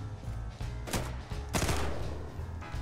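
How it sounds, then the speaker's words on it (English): Gunfire in the shooter game Burst, with rapid overlapping shots and heavy bursts, loud and close over a steady low game drone with no voices. "I'm gonna shoot guys while I'm hiding."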